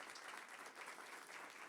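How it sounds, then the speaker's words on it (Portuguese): An audience at a book launch during a Portuguese-language literary talk gives a short burst of steady applause, heard faintly from a distance with no voices over it. "Então, por favor, Mário, um aplauso para o nosso terceiro"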